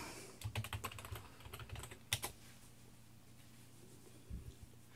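Quiet, rapid keystrokes on a Mac Pro computer keyboard as a password is typed, clustered in the first couple of seconds with a last tap or two, heard close in an otherwise still room.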